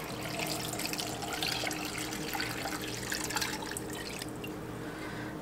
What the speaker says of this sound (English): Now you're just going to add in enough water to cover the potatoes.